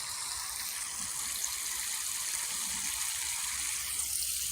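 Water gushes steadily from a garden hose with a crimp in it, a continuous hissing spray close by in a vegetable garden with tomato and pepper plants, with no talk over it.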